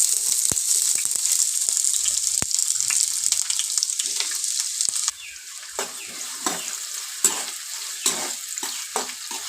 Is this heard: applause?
no